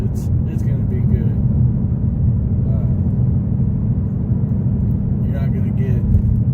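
A 2019 Ford Mustang GT PP1 V8 with its catalytic converters deleted, driven in sport mode, gives a loud, continuous deep exhaust rumble heard from close by, steady throughout.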